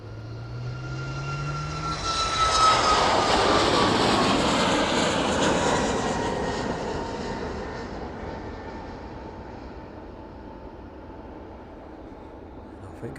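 A jet aircraft departs East Midlands Airport on a shallow climb, its engine roar swelling from a distant rumble to a loud broad wash and then fading gradually as it passes.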